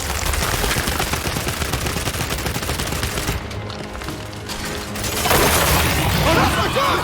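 Dense, loud sustained gunfire from the video game Gears 5 with rapid automatic bursts, a brief lull, then a heavy renewed barrage with booming impacts, voices faintly mixed underneath.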